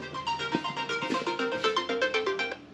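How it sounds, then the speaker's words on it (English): A phone rings with a bright, repeating electronic melody in a shop full of fast cars, the tune clear and steady for a few seconds with no talk over it. "Phone's ringing."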